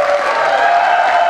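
A studio audience applauds the sound engineer on a Romanian TV show, with a dense, loud, even wash of clapping that carries on without a break.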